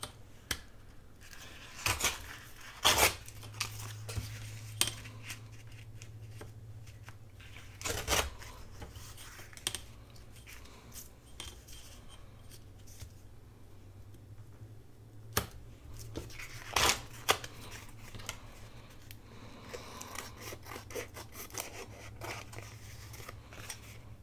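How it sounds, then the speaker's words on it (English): Vintage book pages are torn against a straight edge ruler, giving a string of sharp, brief ripping and rustling bursts spaced irregularly over a quiet background, close and fairly soft, with no talking. "I may just grab my straight edge ruler and tear the others"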